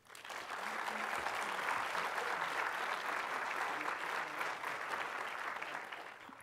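Audience applause welcoming speaker Nancy Boas at an art lecture on Diebenkorn, Park and Bay Area Figurative Art, a steady, full-room clapping that swells quickly, holds evenly for several seconds and tapers at the end.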